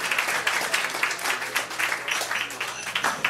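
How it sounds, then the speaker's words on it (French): Applause from a small audience at a poetry evening anniversary event, a continuous patter of clapping hands, even and moderately loud throughout with faint voices. "Est-ce qu'on peut l'applaudir, mesdames et messieurs?"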